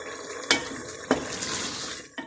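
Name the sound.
half cup of water poured into pan while cooking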